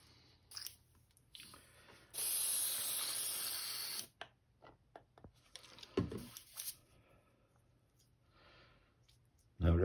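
Two short hisses of an airbrush spraying paint onto a crankbait fishing lure, one long burst of about two seconds, amid quiet clicks and handling noises.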